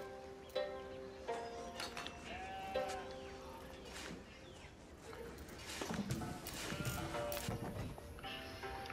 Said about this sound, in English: Toothies, PO5, getting a sheep. Gotta get those sheep